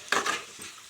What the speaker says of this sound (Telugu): ఈ చిక్కుడుకాయలు వేసుకుందాం అండి. ఇవి కూడా కొంచెం దీంట్లో ఫ్రై అవ్వాలి.